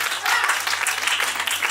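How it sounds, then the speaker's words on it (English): An audience at a Ghanaian community gathering gives a brief round of applause, soft scattered clapping heard under a steady low hum and some background voices. "Just a round of applause"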